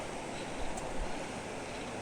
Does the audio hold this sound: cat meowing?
no